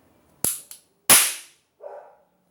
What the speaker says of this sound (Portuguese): Eu dou um tiro pra lá.